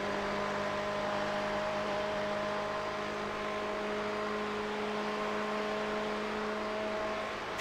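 An on-board race car engine from an 8 Hours of Le Mans endurance sim race holds a steady, loud, continuous drone with a sustained whining tone throughout, alone without talk.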